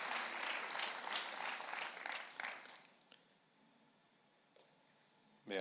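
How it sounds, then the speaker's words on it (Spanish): Congregation at a church service clapping in steady applause for about three seconds, then tapering off into near-silence with a few faint scattered sounds. "Dele ese fuerte aplauso al Señor"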